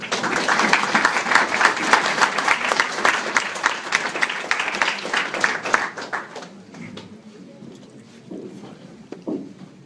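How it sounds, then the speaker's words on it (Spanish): Warm, strong applause from a lecture audience, with dense clapping that holds for several seconds and then tapers off into scattered claps and quiet room noise. "Recibimos a la magíster Carmen Magali Meléndez Jara con un fuerte y cálido aplauso."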